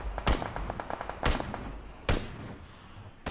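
Gunshots in PLAYERUNKNOWN'S BATTLEGROUNDS: three loud, sharp reports spaced about a second apart, each with a short rattling tail, close and prominent with no talk.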